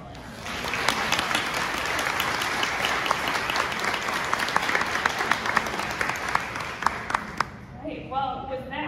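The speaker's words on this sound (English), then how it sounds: "How about a round of applause for our lovely panelists?" A panel-event audience gives the panelists a round of applause: dense, sustained clapping at steady volume with sharp individual claps, fading near the end as voices take over.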